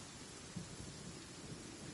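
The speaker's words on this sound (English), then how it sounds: "they were being torn to shreds by the bolts of lightning" Thunder rumbles from lightning bolts in Genshin Impact, a low, steady roll mixed with rain-like noise, fairly faint and continuous with no voices.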